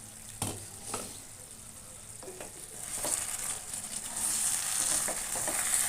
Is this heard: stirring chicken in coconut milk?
yes